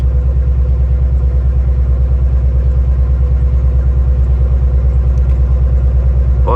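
A Nissan 350Z engine idles close up during a cylinder misfire test, its steady rhythmic low rumble pulsing evenly throughout with no talk over it.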